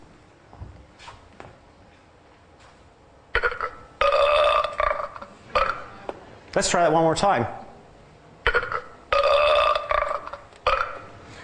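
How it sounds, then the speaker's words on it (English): Cartoon skull burping sound effect, several loud, gurgling belches in separate bursts, with someone speaking briefly in between. "you think that the skull is burping"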